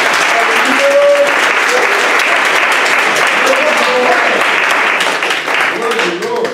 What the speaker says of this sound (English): I'll give God a hand clap.